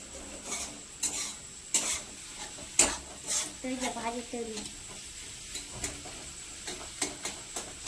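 Bhaji of vegetables being stirred in a pan, with sharp spoon scrapes and clanks recurring every second or so over a faint sizzle, while a voice talks briefly in the middle.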